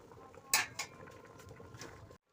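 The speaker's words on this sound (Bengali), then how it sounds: "এবার এটা চাপা দিয়ে দেবো সিদ্ধ হওয়ার জন্যে" A metal lid goes onto a pot of boiling dal with two sharp clanks close together, followed by a soft rattle over quiet kitchen background.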